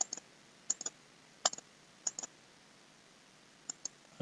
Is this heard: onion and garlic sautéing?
no